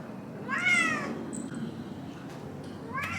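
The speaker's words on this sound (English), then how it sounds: "And this is her cat." A cat named Mademoiselle meows twice, a clear rising-falling meow early and a shorter one at the end, close by over quiet room background with faint voices.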